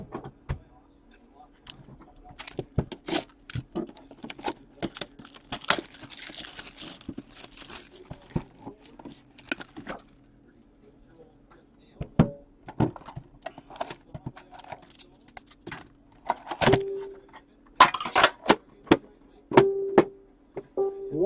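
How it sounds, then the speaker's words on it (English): Upper Deck hockey card tins being opened: crinkling wrapper, sharp snaps and clicks of metal lids and handled packs, close and intermittent, scattered over about twenty seconds with someone talking at times. "Gonna open the tins first. Both of them."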